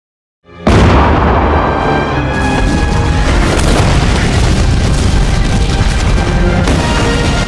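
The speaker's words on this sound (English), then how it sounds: "cause Anderson doesn't surrender, Beauregard orders the cannons to open fire on the fort." After a moment of silence, a sudden, very loud roar of heavy booming cannon fire on Fort Sumter that stays dense and continuous to the end, like cannons firing together.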